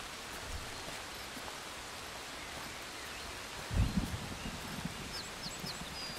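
Rain begins falling in the forest survival game Among Trees, a soft steady hiss of rainfall with a brief louder patter partway through.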